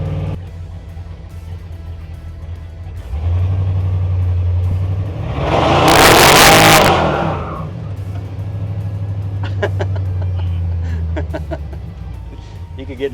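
A bagged GMC truck powered by an LSA engine idles low, then revs hard and accelerates with a loud broadband surge around the midpoint before settling back to a steady rumble. Scattered clicks and rattles follow.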